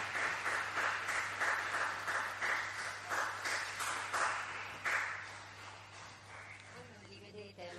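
A crowd applauds at a French national event, steady clapping for several seconds that gradually thins out toward the end, with a constant low hum underneath.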